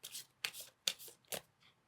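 Tarot cards are shuffled by hand, giving four quick, soft riffling rustles in close succession, faint and close by.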